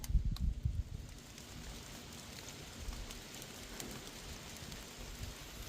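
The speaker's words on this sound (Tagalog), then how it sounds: "Yan, umaambon na nga oh. Pumapatak na ulan oh." Light drizzle patters on a forest trail at Barr Lake State Park in Colorado, a soft steady hiss of rain heard alone, with a few faint low thumps near the start.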